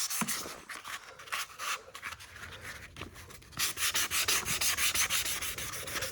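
Paint on a Honda Pilot body panel being scuffed by hand before primer, a run of close, rough rubbing strokes that start out irregular and then settle into a quick, steady back-and-forth rhythm.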